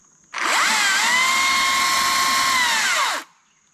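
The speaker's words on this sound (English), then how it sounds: "So no chain on there, but the motor certainly is quieter." Husky T540i cordless chainsaw motor running with no chain fitted, a steady whining electric hum that spins up quickly, holds for about three seconds and winds down, close and loud with no talk.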